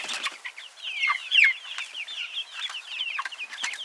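Young chickens in their run, pecking at food on their first time outside, keep up a busy, close chorus of high peeps and soft clucks without a break. No voices are heard.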